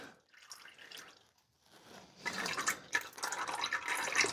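Transfer case fluid trickles steadily out of the fill hole on a Toyota Tundra, a soft liquid dripping and splashing that starts faint and grows louder and denser in the second half.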